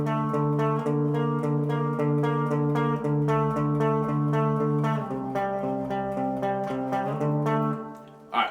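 Distorted electric guitar plays a simple power-chord verse riff from a shred song, low chords struck in a steady repeating rhythm, loud and alone.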